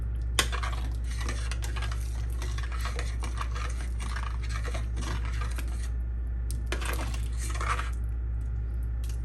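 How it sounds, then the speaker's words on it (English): A spoon stirs West African groundnut stew in a metal pot, scraping and clinking against the sides in irregular bursts over a steady low hum, close and moderately loud. "Let me stop using a spoon in my pot."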